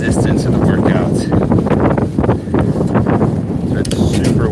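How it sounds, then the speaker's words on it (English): Strong wind buffets the microphone while cycling outdoors, a loud, continuous roar with gusting surges throughout. "So it's super windy."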